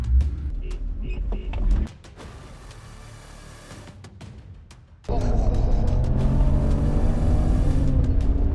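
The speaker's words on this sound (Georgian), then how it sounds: "ჩემი მანქანა მიდი" Car racing against a rival, with a muffled engine hum that drops away and then surges into a loud, sustained revving roar as it accelerates hard.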